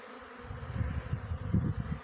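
A dense, low buzzing of many honeybees flying about an apiary in winter, steady and close, swelling slightly without any voices.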